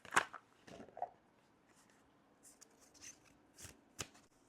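A deck of cards is shuffled in several quick bursts of riffling and snapping, close and crisp, with quiet pauses between the bursts and no talking.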